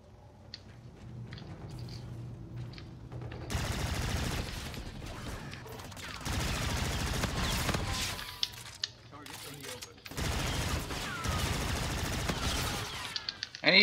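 Bursts of automatic gunfire erupt in a Call of Duty: Infinite Warfare sniper match on the Terminal map, loud sustained volleys separated by quieter gaps, with a voice talking in between.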